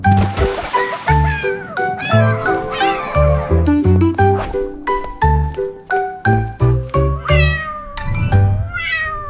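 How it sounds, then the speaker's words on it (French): A cat meows in a French children's lullaby over a tinkling musical backing with steady bass notes, the meows mixed in among chiming melody lines. "Le chat miaula doucement"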